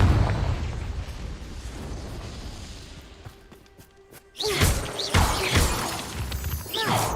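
A Confringo blasting spell erupts in Hogwarts Legacy: a rumbling roar fades into a quieter stretch, then a sudden loud explosive burst with crackling debris and whooshing magical swishes follows, game music faintly under it.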